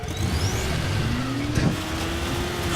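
A car engine in the zombie game Dying Light turns over and revs steadily, a sustained mid-level motor drone with rising pitch sweeps, heard alone without talk.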